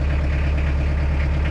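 A tractor engine idles steadily and loudly after starting, a continuous low rumble with no talk.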